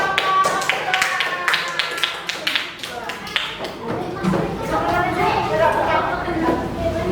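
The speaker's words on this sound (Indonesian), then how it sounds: "Ya, tepuk tangan untuk" Students in a classroom clap after a classmate's presentation, a burst of scattered, moderately loud handclaps with chatter and voices mixed in.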